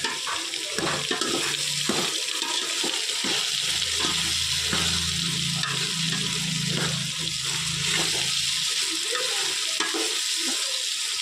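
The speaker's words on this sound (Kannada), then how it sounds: "ಮಿಕ್ಸ್ ತರಕಾರಿಗಳು ಬೀನ್ಸು ಆಲೂಗಡ್ಡೆ ಎಲ್ಲ ಮಿಕ್ಸಲ್ಲಿ ಹಾಕೊಂಡಿದ್ದಾರೆ ಎಲ್ಲ ಇದೆಲ್ಲ ಆಯಿಲ ಸ್ವಲ್ಪ ಹೊತ್ತು ಫ್ರೈ ಆದರೆ ಸಾಕು" Mixed vegetables with beans and potatoes frying in oil for bisibele bath, a steady loud sizzle with scraping stir strokes and clattering from the pan, no voices.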